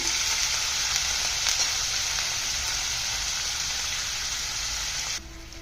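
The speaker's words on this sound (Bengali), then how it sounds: "এখন দিয়ে দিব চিকেন বুকের মাংস কেটে নিয়েছি, সেগুলি দিয়ে দিচ্ছি" Chicken breast pieces sizzle steadily in hot oil in a pan, a loud, dense, continuous fry that drops off abruptly near the end.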